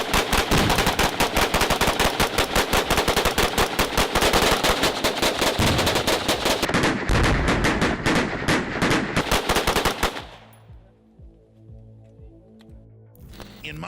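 Rapid gunfire rings out at an outdoor shooting target, a mannequin rigged with tannerite: sustained fast volleys of loud, close shots for about ten seconds, then scattered single reports with long echoing tails.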